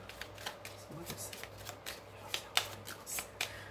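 Tarot-style cards shuffled by hand for a horoscope reading, a quiet series of soft riffling flicks and slaps at an uneven rhythm, close and alone over a low background hum.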